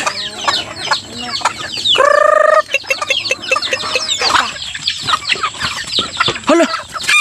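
Chickens cluck busily close by, and a rooster lets out a short crow partway through amid scattered farmyard noise.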